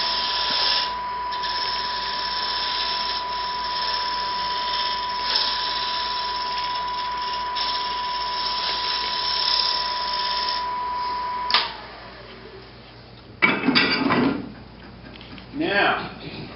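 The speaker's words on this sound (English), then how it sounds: "So I'll just use a bowl gouge. You can hear it." A bowl gouge cuts spinning wood on a lathe, a steady scraping whir with a constant tonal hum from the machine, then the cutting stops and a few short bursts of tool contact follow.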